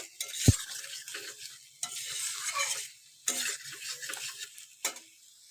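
Boiled potatoes and spice mixture are stirred and fried in a pan, with bursts of scraping and sizzling in several separate strokes, a sharp clack near the start, and quiet gaps between.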